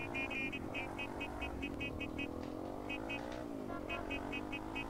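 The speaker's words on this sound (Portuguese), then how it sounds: "Agora encheu de carro, parceiro." Steady engine drone of cars in GTA traffic, a continuous revving hum with repeated rhythmic beeping tones over it, moderately loud throughout.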